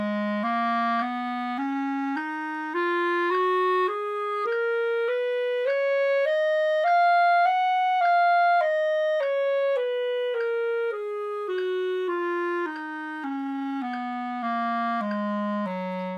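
A scale played on a wind instrument rises step by step and then descends again in clean, evenly spaced sustained notes, heard alone and close.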